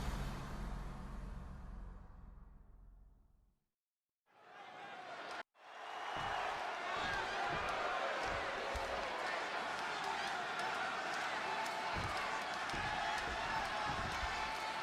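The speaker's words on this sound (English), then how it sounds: "And just listen to this crowd here in Chicago." Arena crowd in the wrestling video game WWE 2K26 at a Chicago show, a dense sustained roar that cuts out briefly then returns loud after a sharp hit, with commentators talking over it.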